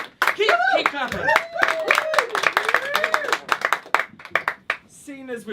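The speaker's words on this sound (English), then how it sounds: "Keep clapping." A small comedy audience keeps clapping for a comedian, giving close, irregular hand claps beneath a man's loud, animated speech.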